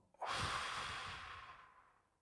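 One deep, slow breath during a guided breathing exercise, a close airy inhale or exhale that swells quickly and then fades gradually over about two seconds, with no talk.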